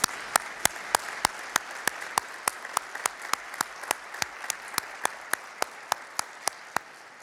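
Clapping rings out at an e-commerce week conference, a quiet, even run of sharp claps at a steady rhythm, like a small group clapping in unison, with no other sound standing out.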